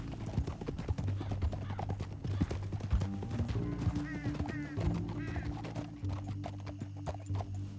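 Hooves from a horse beat a steady clip-clop in the Red Dead Redemption 2 video game, close and continuous, with brief whinnies and snorting over the top.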